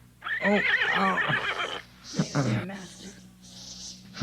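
A horse neighs as a sound effect in a Lord of the Rings audio drama, a loud wavering whinny followed by snorts and breathy huffs, close and clear, with no speech over it.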